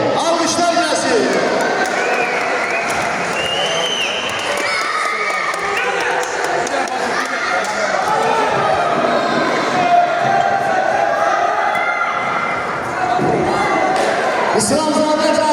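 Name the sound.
audience applause and cheering for athletes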